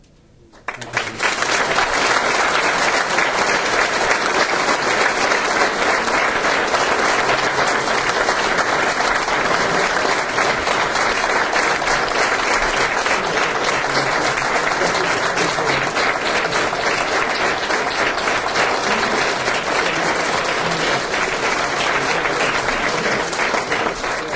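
A fire academy graduation audience claps for the band in one long, sustained ovation. After a brief quiet start the dense crowd applause holds loud and even throughout.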